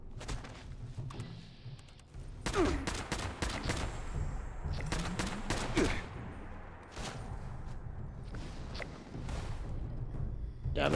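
Repeated gunfire from a weapon in Fallout 76, with dense bursts of rapid shots and short pauses between volleys, loud and close over a steady game background.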